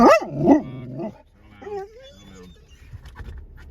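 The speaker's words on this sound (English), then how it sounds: "sorry about the dog there." A dog barks twice loudly up close, then whines and whimpers in softer, rising tones that trail off.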